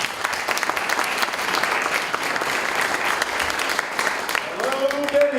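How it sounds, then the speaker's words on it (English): A crowd gives a big round of applause for the guest Alan at a Bennington talk. The sound is dense, steady and loud from start to finish, and a voice briefly cuts in near the end. "So a big round of applause for Alan."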